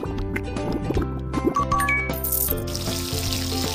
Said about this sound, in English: Can you flush the toilet? You must wash your hands.